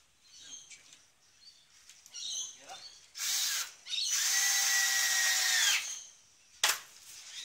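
Power drill driving screws into parts of a homemade Eskrima stick-fighting training dummy, with short revving bursts and one sustained whine of about two seconds, plus light handling clatter.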